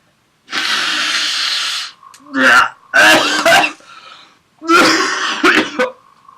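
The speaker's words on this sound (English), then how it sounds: "Just gonna blow my nose for the camera." A person blowing their nose, a long wet nasal honk followed by several shorter snorting blows and throat sounds, loud and close to the microphone.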